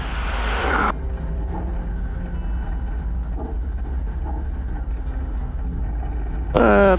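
A Xenos light aircraft touches down on a runway, its engine a steady drone under a constant low rumble, with a voice heard briefly at the start and end.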